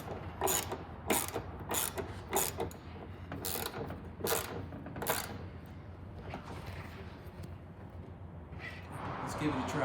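A ratchet tightening a rear liftgate strut on a 2005-2010 Jeep Grand Cherokee, a run of quick metallic clicking bursts in a steady rhythm, close and fairly quiet, then fading out.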